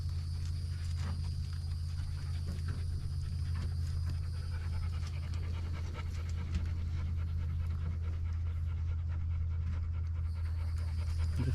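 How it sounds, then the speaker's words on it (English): A dog pants steadily and quickly at close range near a large monitor lizard being fed, with a constant low hum beneath the rapid breaths. "you got dogs right here"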